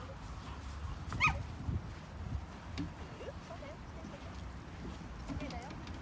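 A dog whimpers and gives a few short yips during an obedience training session, the small sounds scattered over steady background noise while people talk nearby.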